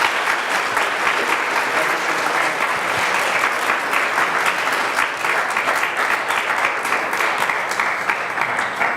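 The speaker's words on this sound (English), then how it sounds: "Let's give them a round of applause again." Sustained applause from a university symposium audience, dense and even clapping from many hands that fills the room at steady volume throughout.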